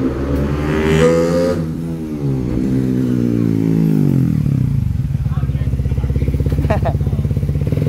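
A Suzuki GSX-S150 motorcycle engine revs up and down on a test drive after fine tuning, its pitch rising and falling before settling into a loud, close, rhythmic idle putter.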